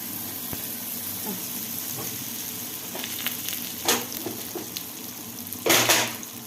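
Cauliflower frying in very hot oil makes a continuous crackling sizzle, with small pops and a few louder bursts of spitting as pieces stir or drop in, close up with no talk.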